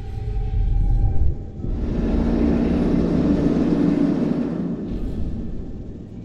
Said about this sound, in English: So, is that a rescue helicopter?